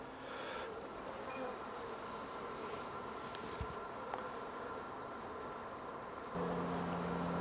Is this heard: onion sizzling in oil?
no